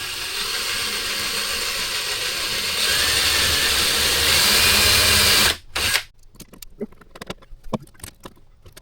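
Power driver sinking a pilot screw into the kitchen end panel of a 25-year-old motorhome: a close, loud whirring drive that rises in pitch, stops abruptly after about five seconds, and then gives way to scattered handling clicks and knocks.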